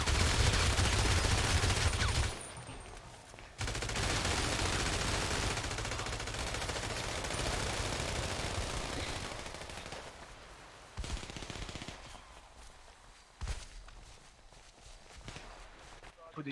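Video game gunfire crackles in rapid machine-gun bursts at the start and again midway, with footstep-like clatter between volleys, while players chatter over it.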